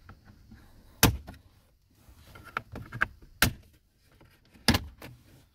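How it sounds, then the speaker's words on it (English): Sharp plastic clicks and snaps from interior panel fasteners being pried loose in a 2019 Ford Mustang, several distinct pops spaced irregularly with soft rustling and handling noise between them. "start releasing the fasteners"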